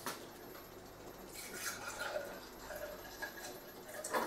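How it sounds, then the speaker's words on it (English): Water is poured into a container in a home kitchen, a soft, close trickling and splashing fill that swells and fades over a few seconds with no talk. "and put some water in it"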